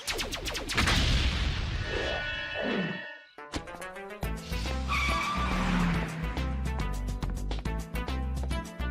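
Gadget Mobile from an animated film racing along with engine roar, tire screeches and skidding, punctuated by sharp impacts and a brief drop to near silence midway, loud and busy throughout.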